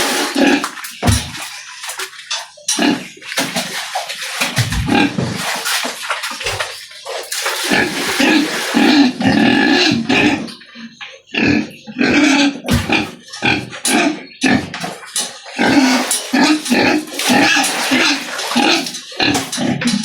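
Large pigs grunting while being bathed with water, frequent close snorts and grunts mixed with splashing and running water, loud and continuous.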